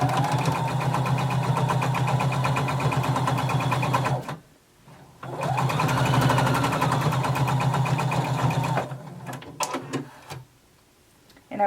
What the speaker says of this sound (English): we're going to sew these together using 5/8 of an inch seam allowance